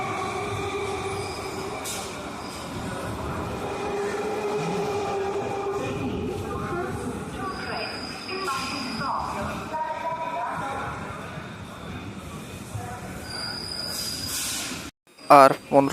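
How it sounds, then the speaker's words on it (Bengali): A fast Kolkata suburban local train on the Barrackpore line runs toward Sodepur station, rumbling and rattling with squealing wheels and tonal whines. A voice talks over it, and the sound drops out near the end before brief loud bursts. "আমাদের ট্রেন এসে গেছে নিজের সেকেন্ড লাস্ট হল্ট সোদপুর"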